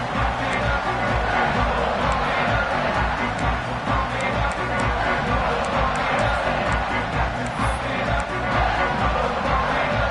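Crowd in a stadium crowd from the College Football 26 video game at a touchback, a steady, dense roar of many voices with no clear peaks, running continuously.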